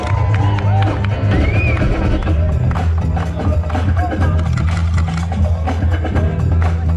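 A crowd cheers and whoops at a breakdance battle, loud and sustained throughout, with shouting voices and bursts of noise layered over a low rumble.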